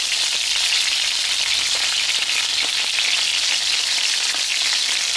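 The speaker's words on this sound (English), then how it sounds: "As you can see, I'm already cooking the wings." Chicken wings fry in a pan with a loud, dense crackling sizzle that keeps going steadily the whole time, without any talk.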